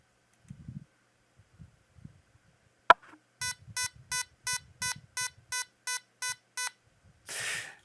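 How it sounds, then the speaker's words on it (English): A sharp click, then a run of ten evenly spaced electronic beeps from a LEGO EV3 robot brick, clear and close, ending in a short burst of hiss; no talking. "that's basic beeping"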